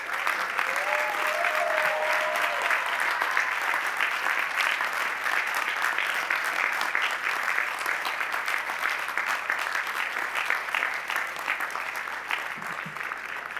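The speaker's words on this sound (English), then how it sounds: "Turn and face your loved ones and give them a round of applause and thanks" Graduates applaud their loved ones at a 2014 business school commencement, a loud, sustained wall of clapping from a large crowd in a big hall, steady throughout with a slight easing near the end.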